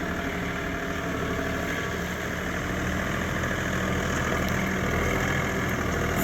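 A John Deere 3046R compact tractor engine runs steadily, a continuous low diesel drone at a moderate distance with no talking.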